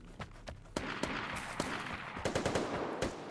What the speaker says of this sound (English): You're then greeted by some pew-pew bang-bangs, something that I assume is meant to get our hearts racing.